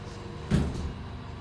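The door of a 1988 Eltec hydraulic elevator at Lonsdale Court in North Vancouver closes with a single soft thud over a steady low mechanical hum, with no voices.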